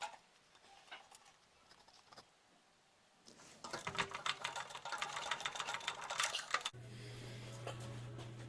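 A John Deere garden tractor engine cranks over with its spark plugs removed, a fast rattling whir from about 3.5 to 6.7 seconds before settling into a steady lower hum; quieter mechanical noise precedes it.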